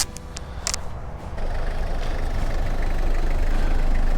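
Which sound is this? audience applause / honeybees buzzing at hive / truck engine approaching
truck engine approaching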